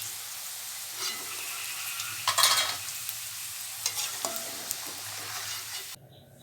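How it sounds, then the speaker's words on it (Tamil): Raw banana pieces deep-fry in hot oil for chops, a steady close sizzle with scraping clatters from a slotted spoon lifting them out, then the sound cuts off near the end. "இப்போ நம்ம அரிச்சு எடுத்துகிட்டு மீதி இருக்கிறதையும் பொறிச்சு எடுத்துடலாம்"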